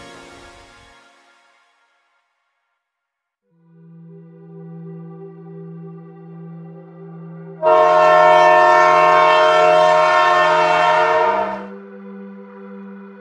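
Express train on a rail line as a sound effect: a soft tone fades out, then a steady low engine drone is joined midway by a loud, sustained blaring horn that cuts off before the rumble continues.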